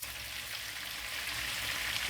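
Garlic ginger paste sizzles and fries in a pan for a chicken Afghani karahi, a steady bright crackling hiss that continues without pause.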